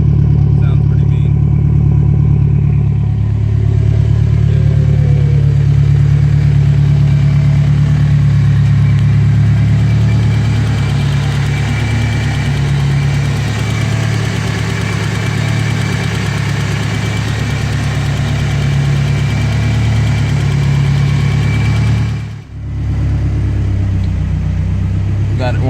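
A turbocharged BMW E30 with an M42 engine idles loudly and close by with a deep, steady rumble. The idle rises and dips slightly as it surges, with a brief drop near the end.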